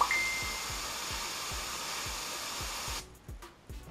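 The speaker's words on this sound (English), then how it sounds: "Test spray." A steady, hissing airbrush test spray of compressed air runs for about three seconds with a faint rhythmic ticking beneath, then cuts off into brief sputters.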